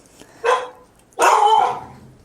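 A dog barks twice close by, a short bark followed by a longer, drawn-out one, with quiet between them.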